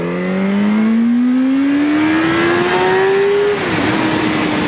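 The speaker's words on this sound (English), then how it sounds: "no throttle, no clutch. Down 1 gear, down 2 gears, down 3 gears." A motorcycle with a synchromesh transmission shifts down three gears without throttle or clutch, its engine whine rising steadily in pitch for several seconds before dropping off, loud and close with no talking.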